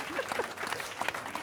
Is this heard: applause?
yes